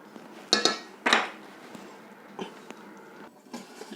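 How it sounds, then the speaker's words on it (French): Contents of a cooking pot are tipped into a gratin dish, with sharp clinks and knocks of cookware near the start followed by softer scraping taps and thuds, close and intermittent. "On verse le contenu de notre cocotte."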